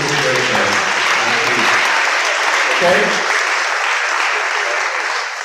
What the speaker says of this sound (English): let's give one last round of applause to all those that put this event on